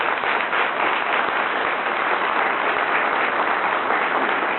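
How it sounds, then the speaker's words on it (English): Steady, dense applause from a large audience at a college honors ceremony, continuous and even throughout without any voices over it. "Give him a round of applause, Robert Milner."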